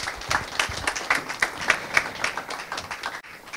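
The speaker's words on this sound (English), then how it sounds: "another resounding round of applause" A conference audience for a business talk on transforming a manufacturing company applauds, a steady patter of many hands clapping at moderate distance for several seconds before it thins out.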